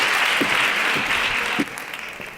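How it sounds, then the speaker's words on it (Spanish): Audience at an educational conference session applauding to welcome a speaker, a steady wash of clapping that gradually thins and fades over a couple of seconds. "tenemos aquí a Antonio, le damos la bienvenida con un fuerte aplauso"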